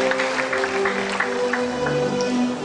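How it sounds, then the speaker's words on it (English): An indoor audience at an inaugural lecture applauds the staff and students of St. Michael's College, Benin City, with steady clapping under a held tone from the hall's sound system. "Please, a round of applause for them"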